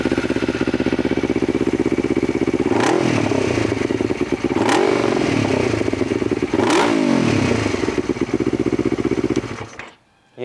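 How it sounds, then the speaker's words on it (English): A cold Yamaha R3 race bike engine idles with a loud, raspy note and is blipped three times in short revs spaced about two seconds apart, cutting off abruptly near the end. "The engine's cold, so we're not going to rev it too much"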